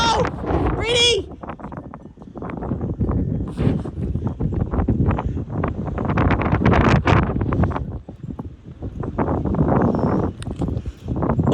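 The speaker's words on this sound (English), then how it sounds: "that was the craziest gust of my life." Very strong wind gusts roar and buffet the microphone in heavy, surging bursts near trees while people shout and exclaim over the noise.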